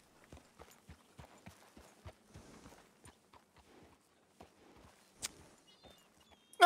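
Horse hooves clip-clopping in a roleplay video game, a steady run of distinct, fairly faint hoofbeats in even rhythm that thins out into scattered steps toward the end.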